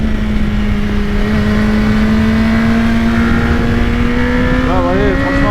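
BMW S1000RR motorcycle engine holds a loud, steady high-pitched drone that rises gradually, then chirps through quick rapid gear changes near the end, with a voice speaking over it.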